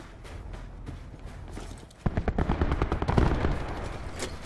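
Rapid bursts of automatic gunfire from Call of Duty Black Ops 4, a sparser string of shots at first, then dense loud volleys of cracking fire.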